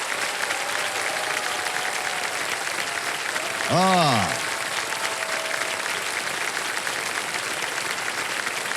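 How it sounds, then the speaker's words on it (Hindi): Studio audience applause on the KBC quiz show set, dense sustained clapping filling the whole stretch, with a brief voice calling out in the middle. "तालियां बजती रहें इनके लिए।"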